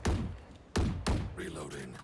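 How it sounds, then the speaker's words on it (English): A gun is reloaded in a video game with three solid mechanical clunks in quick succession, followed by a brief voice. "Reloading."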